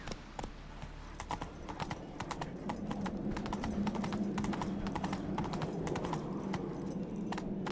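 Horse hooves pound out a quick, steady galloping rhythm in the Witcher 3 video game, close and clear, with faint jingling tack and no talking over it.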